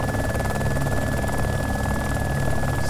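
Helicopter in the survival video game DayZ, a steady droning rotor and engine hum with a constant whine, continuous and fairly subdued with no talk.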